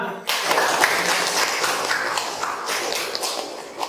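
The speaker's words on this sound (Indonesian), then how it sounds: "beri tepuk tangan" A classroom of students breaks into applause, a loud burst of many clapping hands that starts abruptly and continues steadily nearby, with a faint voice underneath.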